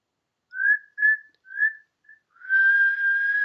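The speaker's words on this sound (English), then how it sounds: "Can you whistle?" A person whistles a few short tonal notes, then holds one long, steady whistled note, clear and close with no talking.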